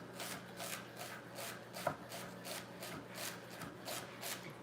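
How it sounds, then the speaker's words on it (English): A knife chops food finely on a cutting board during Thanksgiving cooking prep, making quick, regular, close taps at about three per second. There is no talking. "So I'm just chopping this up pretty fine."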